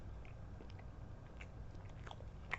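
Faint, soft chewing of a vanilla Twinkie sponge cake with its sweet cream filling: quiet, moist bites close to the mic, with a slightly sharper bite near the end and no talking.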